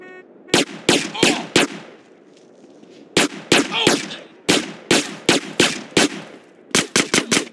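Rapid bursts of video game gunfire in Grand Theft Auto, loud and close, in three clusters of quick successive shots separated by short pauses, with no talk.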